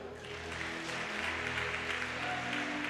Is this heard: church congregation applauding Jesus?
yes